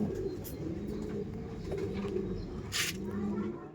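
Racing pigeons coo in a loft, a run of soft, repeated low calls close by, fairly quiet and continuous, with a brief bright noise near the end.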